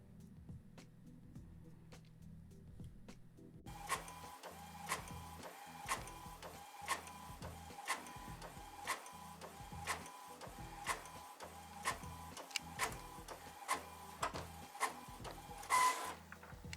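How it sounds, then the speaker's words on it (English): A sublimation printer runs a transfer print on paper, starting with a low hum and then breaking into a steady mechanical whir with regular clicking ticks as the print head sweeps back and forth, close and fairly quiet. "Let me go ahead and send that off to the printer."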